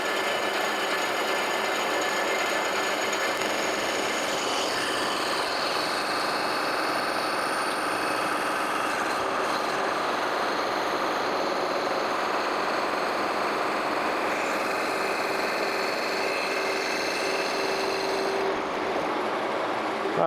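A horizontal milling machine face mills a cast metal part, a steady loud continuous cutting whine and motor drone holding evenly throughout with no talk.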